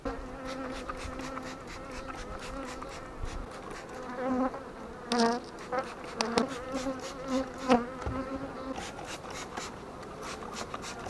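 Honeybees buzzing at an open hive while it is treated for varroa mites after honey extraction, a steady close drone with rising and falling individual buzzes and faint handling scrapes.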